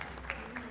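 Applause from an audience at a community celebration held at a Hungarian society hall, a short burst of clapping with crowd murmur and a voice in the background.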